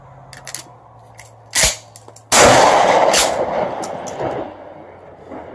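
A 12-gauge shotgun fires a water-soaked Remington slug outdoors: a shorter sharp report comes first, then one loud, close blast with a long rumbling tail.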